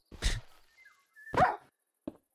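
A dog in a video game lets out two short, gruff barks and then a brief, quieter yip, close and clear against silence.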